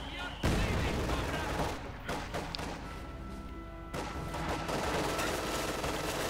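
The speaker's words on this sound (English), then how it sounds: "we got a heavy mortar ramming for Park. A heavy mortar" Heavy mortar and gunfire from a Company of Heroes 2 1v1 match crash repeatedly in a dense, loud wartime din with thumping impacts and ongoing shots.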